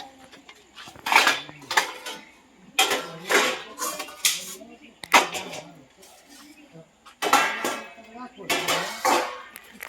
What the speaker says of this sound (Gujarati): વાસણ ધોઈને અહીંયા પર સૂકવવાના.